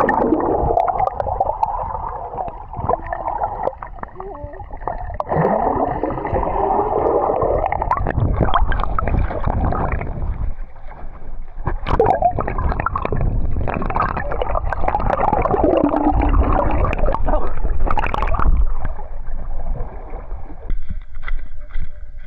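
Strong flowing water current rushes and gurgles close by along a river in foggy surroundings, a loud continuous churning wash that surges and eases in waves for the whole stretch.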